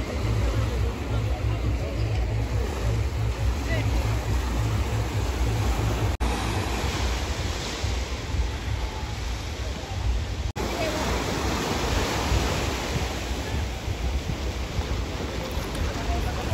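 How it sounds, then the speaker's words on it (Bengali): Sea waves break continuously on Bakkhali beach, a loud, steady roar of surf heard right at the water's edge, with wind noise and no clear talk over it. "সমুদ্রের ঢেউ আর এই যে আওয়াজটা খুব সুন্দর উপভোগ, খুব ভালো লাগে শুনতে।"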